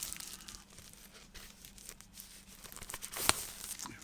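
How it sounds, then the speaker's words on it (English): Shrink wrap pulled off a vinyl record, a close, soft crinkling and tearing of plastic film that ends in one sharper rip near the end, with no talking. "get the shrink wrap off here, try and not tear the hype sticker off in the process"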